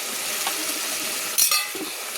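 Spices for a Bengali golda prawn curry fry in a pan with a steady, close sizzle, broken by a couple of brief scraping stirs and a light clink near the middle.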